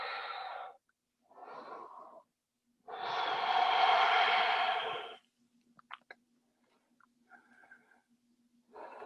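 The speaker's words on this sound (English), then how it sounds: "And breathing." Heavy breathing during a balance and resistance-band exercise class: several long, wheezy inhales and exhales, close and fairly quiet, separated by pauses, with faint small noises between breaths.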